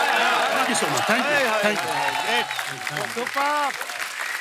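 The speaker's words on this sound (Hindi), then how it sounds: "जोरदार तालियां हो जाए वीआईपी भाई के लिए" A television comedy show's studio audience applauds in a steady wash of clapping beneath someone speaking loudly over it.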